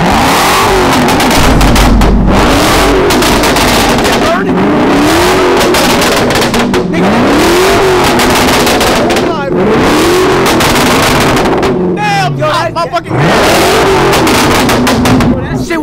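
A car engine revs repeatedly in sharp rising bursts with crackling exhaust pops between pulls, loud and close, while several people talk excitedly over it.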